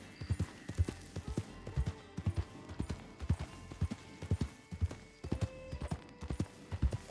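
Horse hooves clip-clop steadily at a walking rhythm on hard ground in the RedM video game, fairly near and alone, with no talk over them.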